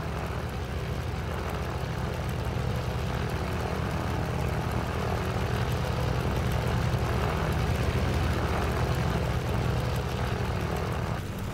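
Simulated Maule M-7-235B single-engine propeller plane taxiing in X-Plane 12, a steady, loud cockpit drone of engine and airscrew holding constant throughout with no talk.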